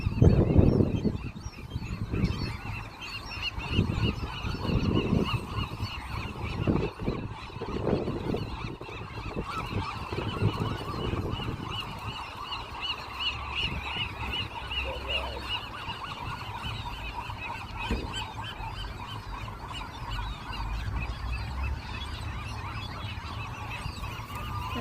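A dense chorus of seabirds at Alcatraz calls continuously, a steady wash of honking and squawking from thousands of birds at middle distance, with some louder nearby calls early on.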